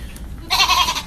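A woman imitates a goat's bleat, a single short, nasal, wavering cry that starts loud and close and lasts about half a second.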